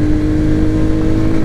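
Engine of a Royal Enfield Hunter 350 motorcycle under way, a loud, close, steady droning hum with a constant pitch and no speech.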